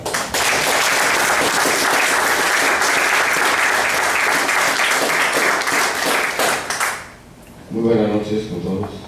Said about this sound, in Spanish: Fuertes aplausos para presentar al autor José Luis Aliaga.